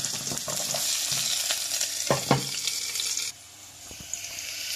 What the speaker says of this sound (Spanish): que he sofritado la zanahoria y el pimiento